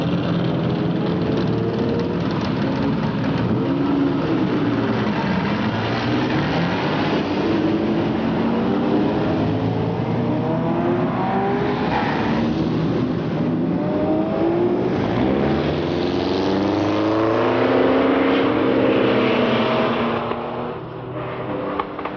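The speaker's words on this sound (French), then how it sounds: "Les Ferrari s'en donnent à cœur joie." Ferrari race cars, including a 250 GTO, roar past at the 1992 Tour Auto, a continuous loud engine drone with rising and falling pitch sweeps as cars accelerate and pass, fairly close throughout.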